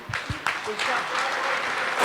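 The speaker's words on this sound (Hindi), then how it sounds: "जोरदार तालियां दोस्तों" Audience applause at a company's 15-year celebration event, a burst of clapping building into sustained dense applause from a crowd, with a voice speaking over the start.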